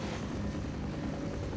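Helicopter in the game Half-Life, heard as a steady, loud rotor and engine drone filling the short moment with no speech.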